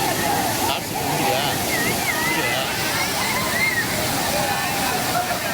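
Kumbakkarai waterfall in Theni district's Western Ghats pouring steadily as tourists bathe beneath it, a loud continuous rushing roar of falling water with splashing, voices mixed in throughout.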